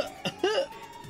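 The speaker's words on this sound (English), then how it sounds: "Damn, she's coughing so hard she can't even talk." A video game character coughs hard from smoke, two or three harsh, close bursts with a strained, voiced rasp between them.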